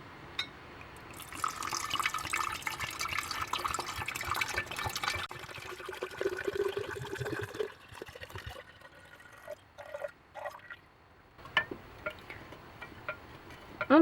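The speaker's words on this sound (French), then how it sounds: "on va ajouter 1 litre d'eau décantée" One litre of decanted water poured into a glass vessel for fruit kefir inside a converted van, a steady close filling stream that gurgles and then tapers off into a few drips.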